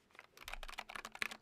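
Rapid, soft clicking of fingers typing on a computer keyboard fitted with silent keys, a quick irregular patter of keystrokes close by.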